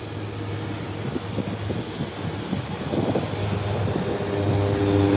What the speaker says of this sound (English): And here's another takeoff.